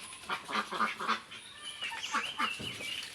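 Ducks quack in quick, irregular bursts close by, a few calls overlapping one another with no talking.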